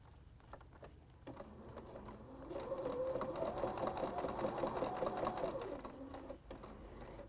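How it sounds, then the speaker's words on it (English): A sewing machine runs quarter-inch seams on a quilted table runner, first quiet handling, then a steady rapid whirring stitch for several seconds before it slows and stops. No one speaks. "I'm going to go back to sewing my quarter inch seams"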